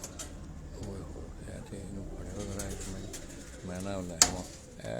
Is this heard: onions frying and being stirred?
no